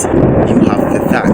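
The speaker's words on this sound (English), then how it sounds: "That's the thunder. It's about to rain here" Thunder rolls before rain as a low, continuous rumble beneath someone speaking.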